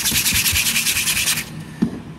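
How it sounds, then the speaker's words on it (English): Hand sanding over a scratch on a painted surface in a rental property before filling with putty, a quick run of rhythmic rasping strokes that stops, followed by a single knock. "So then get a sanding thing."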